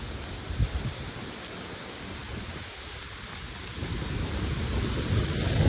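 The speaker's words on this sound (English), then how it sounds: "Yeah, I'm tired of getting soaked in rain." Heavy rain falls steadily during a severe thunderstorm, a dense outdoor hiss with low rumbling underneath. A few dull thumps come early on, and the wash grows louder toward the end.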